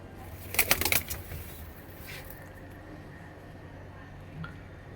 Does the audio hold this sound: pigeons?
yes